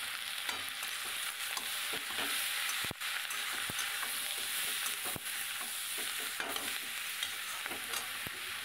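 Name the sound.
spices sautéing and being stirred in pan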